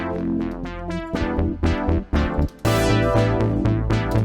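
Brass synth preset in an Ableton nu-disco house track, playing punchy stabbed chords over a steady beat and bass, dense and loud, ending in sustained full chords with no talking.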